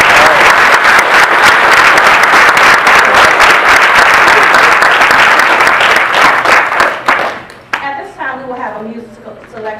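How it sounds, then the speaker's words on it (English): Audience at a courthouse renaming ceremony in Charles City County bursts into loud, sustained applause for about seven seconds, then the clapping thins and fades as a voice begins speaking. "that, ladies and gentlemen, deserves a round of applause"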